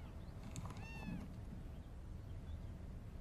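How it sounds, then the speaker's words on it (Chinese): A kitten gives one faint, thin meow early on, heard at a distance under a constant low background rumble; the remainder stays quiet. "小猫，对啊，粉丝送的，特别可爱"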